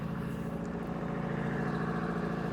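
A large backhoe engine runs steadily at idle, a close, loud, low rumble with an even rhythmic chug and no talking.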